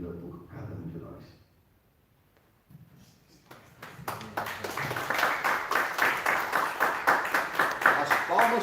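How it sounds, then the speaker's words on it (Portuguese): A speaker at a Brazilian spiritual lecture talks briefly before an audience joins in, and the clapping swells into steady, rhythmic, fairly loud applause across the hall that continues to the end. "As palmas são para Jesus."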